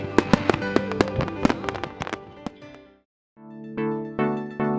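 Fireworks bursting at a year-end beach illumination festival, a rapid string of loud sharp bangs and crackles that pauses briefly, then resumes with several more booming reports.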